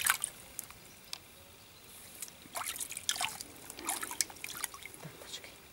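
Water splashing and dripping in a pet turtle's warm bath, with intermittent trickles and small splashes close by, steady faint background hiss between bursts.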